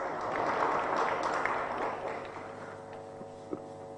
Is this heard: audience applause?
yes